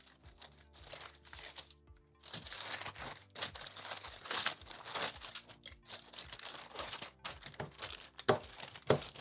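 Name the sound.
crinkling wrapping paper being rolled up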